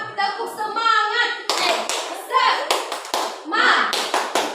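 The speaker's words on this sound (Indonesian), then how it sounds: "Tepuk semangat." A classroom group performs the tepuk semangat clapping chant, sharp rhythmic hand claps in short patterned bursts alternating with voices chanting along, close and lively.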